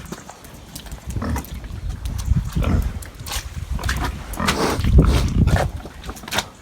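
Pigs being herded and sorted on a farm grunt and squeal loudly at close range in repeated bursts, with knocking and shuffling around them.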